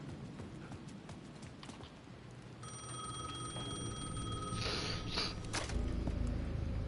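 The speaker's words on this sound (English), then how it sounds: "The payphone at the edge of the plaza was ringing again." A steady electronic payphone ringing tone in Alan Wake 2 on PS5 sounds for about two seconds amid ambient game noise and soft thudding steps, then a burst of louder clattering follows.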